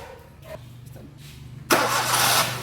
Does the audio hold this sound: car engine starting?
yes